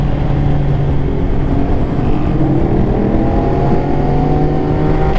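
A Ducati Hypermotard motorcycle accelerating, its loud, close engine note rising steadily and holding a continuous rasp throughout.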